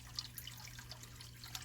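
Running water trickles through a bioactive reptile terrarium with a mangrove tree and leaf litter, heard as faint, scattered drips and splashes over a low, steady hum.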